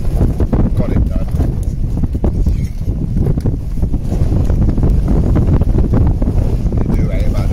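A strong 35 mph wind at a wild camp buffets the microphone with loud, continuous low rumbling and gusting thumps.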